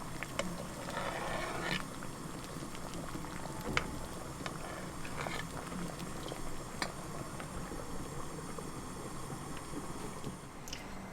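Beef soup for Korean yukgaejang simmers in a partly lidded pot over medium heat, a steady low bubbling and burbling with scattered small pops and clicks, no talking.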